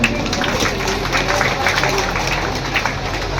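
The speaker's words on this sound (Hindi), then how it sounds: "पहले इन राधा रानियों के लिए तालियां बजा दो यार" Crowd clapping for young dancers at a devotional Krishna storytelling gathering in Vrindavan, a continuous mass of hands heard alongside crowd murmur and talking.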